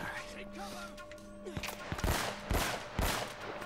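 Gunfire in Uncharted: Drake's Fortune: three or four sharp, loud shots spaced about half a second apart, following quieter game ambience, with a voice talking at times.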